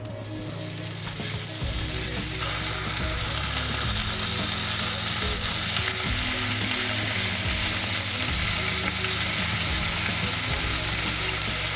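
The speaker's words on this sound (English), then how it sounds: "grab our bacon and sizzle that bad boy away" Bacon sizzling in a separate hot frying pan on medium heat, a loud, dense, continuous crackle that swells in the first couple of seconds and then holds steady with no talking.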